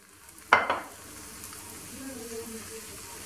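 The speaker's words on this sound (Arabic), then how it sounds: "غادي نحط كميه من العجين السائل." Liquid pizza batter poured into a hot frying pan: a sharp splash as it lands, followed by a soft, steady sizzle that continues at low level.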